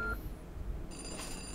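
A telephone in the video game NUTS gives a faint, brief electronic tone, then a steadier set of higher ringing or dialing tones over a low background hum, with no talking.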